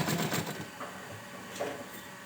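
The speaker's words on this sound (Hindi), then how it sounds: "जैसे मैं रबड़ को खींचते जा रही हूँ और सिलाई कर रही हूँ" Sewing machine stitching elastic while it is stretched for a small girl's dress: a soft, close, continuous mechanical whir with a faint rhythmic patter, fairly quiet throughout.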